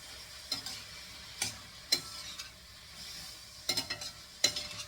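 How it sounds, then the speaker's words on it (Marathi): A bottle gourd dhoodhi dish with spices is stirred in a pan, giving a few separate scraping, tapping strokes with a faint sizzle between them, moderately close and with no talking. "आता हे चांगलं मिक्स करून घ्यायचं आहे."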